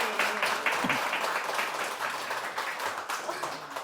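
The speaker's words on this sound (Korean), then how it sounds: "박수 한번 보내주시죠." At a talk concert, the audience claps together in a dense, steady round of applause that slowly fades over a few seconds.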